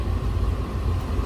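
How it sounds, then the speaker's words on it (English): A car on the road rumbles close by with a low, steady engine drone and a muffled roll that holds evenly through the short stretch, with no talking. "It looks like this car might try to hit me."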